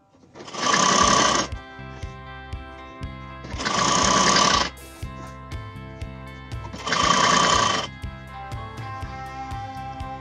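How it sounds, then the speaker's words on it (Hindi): Sewing machine stitching the neck and arm portion of an off-shoulder raglan sleeve top, three loud bursts of rapid stitching each about a second long, separated by quiet pauses. "इसके पूरे नेक और आर्म पोर्शन में स्टिचिंग करेंगे"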